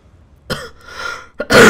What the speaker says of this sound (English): Even more random cough.